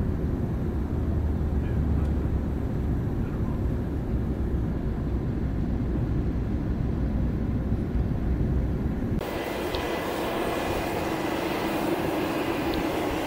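Steady, loud low-frequency roar inside an airliner cabin descending toward landing in Las Vegas on a flight from Los Angeles, continuous throughout, with an abrupt shift in the hum partway through.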